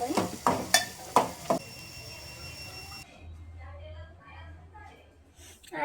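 Chopped onions stirred in a frying pan, with sharp scraping clatters of a spoon against the pan over a steady sizzle, then a quieter low hum and soft frying as a voice speaks.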